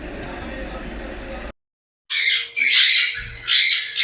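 Pigeons being fed grit give sharp, squawking bird calls in three close bursts after a stretch of steady noise and a brief silence.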